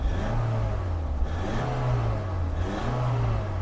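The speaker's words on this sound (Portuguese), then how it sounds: "quando se acelera, olha como sobe rápido o giro" A 2006 Nissan X-Trail engine revs hard under acceleration, a loud, steady mid-pitched roar that climbs and falls in repeated surges with no speech over it.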